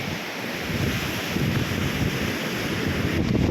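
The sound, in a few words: wind and rain starting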